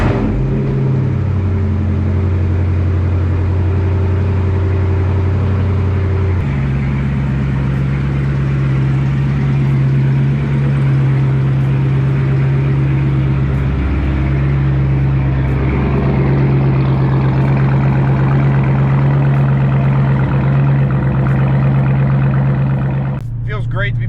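A Dodge Challenger with a manual transmission idles after being pulled out of the garage to warm up: a steady, deep engine rumble that settles to a lower, even idle partway through, with background noise throughout.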